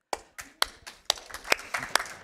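Several people clapping during a marathon speedrun of Kao the Kangaroo Round 2, with about eight separate sharp claps in an irregular rhythm, fairly faint and without talk.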